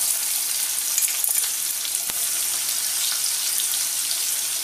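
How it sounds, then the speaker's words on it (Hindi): Onion dropped into hot oil already crackling with mustard seeds and asafoetida sets off a loud, steady broadband sizzle with a few sharp pops and stir clatters, close and with no voices. "और फिर राई डालेंगे। थोड़ी सी हींग डालूंगी मैं, और एकदम से अब प्याज डाल देंगे।"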